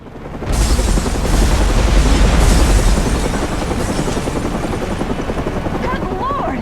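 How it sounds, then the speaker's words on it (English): A massive hotel explosion in the video game Batman: Arkham Origins: a loud, deep roaring blast that swells up suddenly and then rumbles on with a long, slowly fading tail, with speech heard over it. "where there has just been a massive explosion"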